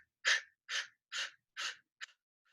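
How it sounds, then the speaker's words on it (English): Forceful breaths pushed out during a yoga stretch with the arms held long overhead: four strong, evenly spaced bursts of exhaling, close and fairly loud, then a shorter fifth puff and a faint trailing breath. "Start to exhale forcefully here."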